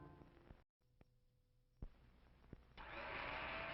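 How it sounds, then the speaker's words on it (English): A General Electric blender in an old TV advertisement whirs into a loud, steady motor roar near the end, preceded by a few sharp clicks and softer mechanical sounds. "It's a General Electric blender that's going around."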